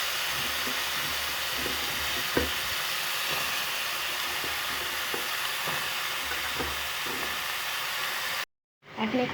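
Capsicum and onion fry over high heat in a pan for a Chinese-style vegetable dish, producing a continuous, fairly loud sizzle with occasional stirring clicks, ending abruptly in a brief silence.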